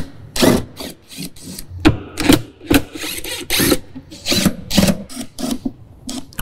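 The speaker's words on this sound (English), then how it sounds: "So we'll go ahead and remove these screws." Short whirring bursts from a power driver backing screws out of a John Deere Gator dash panel, about a dozen quick spurts in an uneven rhythm, close and fairly loud with no talk.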